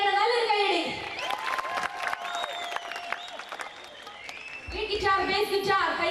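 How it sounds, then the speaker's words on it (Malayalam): Audience applause and cheering at a live stage show, a sustained wash of crowd clapping running for several seconds beneath a loud amplified voice or music. "അവർക്ക് കൊടുക്കുന്ന ഏറ്റവും വലിയ സമ്മാനമായിരിക്കും നിങ്ങൾ കൊടുക്കുന്ന കൈയടി."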